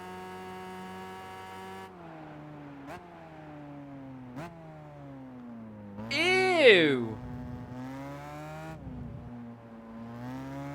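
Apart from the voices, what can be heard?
car engine note in the video game Gran Turismo 5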